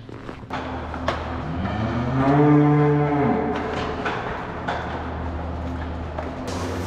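Several cows in a barn moo, with one long, loud low moo rising and falling in the middle over a steady background rumble.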